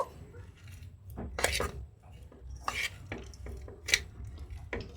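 Mashed potato stuffing mixed in a bowl with whole cumin, coriander powder and other spices, giving scattered close scrapes and clinks of a spoon on the bowl over a soft background, with no one talking.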